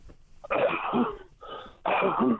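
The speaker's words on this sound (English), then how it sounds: "please forgive the cough" A man coughs harshly three times in close succession, the bursts near and fairly loud with short gaps between them.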